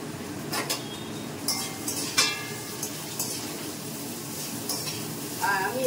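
Potatoes fry in tempered oil in a home kitchen pan. A steady, moderate sizzle runs under occasional clinks and scrapes of a stirring utensil against the pan.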